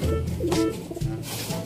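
A racing pigeon coos at close range, with a few short, low, throaty coos in an uneven rhythm over light background noise.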